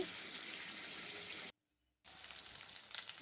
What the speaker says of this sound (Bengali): আর এখানে মাছগুলো ভেজে নিচ্ছি